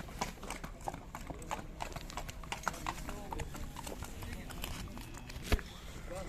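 Hooves of a seven-year-old Kyrgyz horse clip-clop in a steady, fairly close walking rhythm at a busy livestock market, under ongoing talk, with one sharper knock near the end.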